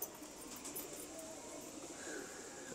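Pigeons of a slim, fine-necked breed coo softly at a distance, a faint low murmur over a quiet background with a few light chirps.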